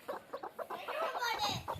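A free-range village hen clucks in a quick series of soft, rhythmic calls at a moderate distance, with a few more clucks trailing off near the end.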